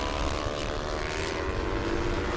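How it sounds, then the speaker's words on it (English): Racing motorcycles in the Pro Stock 301–400cc open class at an Indian national championship race cross the start line in a dense, continuous engine roar with no distinct passes and no voices. "We got a line of bikes crossing the start line here."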